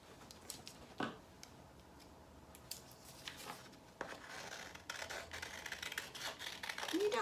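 Scissors cut out a paper treetop with quiet, irregular snips and crinkles of paper. The sound comes close up and faint, with no talking.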